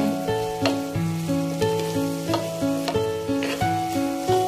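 Sautéed bitter gourd with eggs and sardines sizzles in a pan while a utensil stirs it, giving rhythmic scraping strokes about every half second over steady frying hiss, close and clear with no talking.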